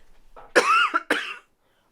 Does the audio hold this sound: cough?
yes